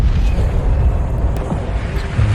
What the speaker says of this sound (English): Each one of these explosions being roughly 6 times more powerful than the bombs dropped on Japan